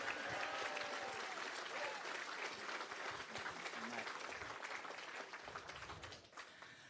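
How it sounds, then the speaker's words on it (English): Sustained audience applause fills a room at a Conservative political meet-and-greet in Chilliwack, holding steady for several seconds before tapering off at the end, with a few voices mixed into the clapping. "let's give John another round of applause"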